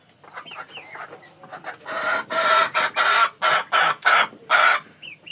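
Fayoumi chickens and roosters clucking close by in a series of loud, choppy bursts, with softer bird calls at the start and no talking.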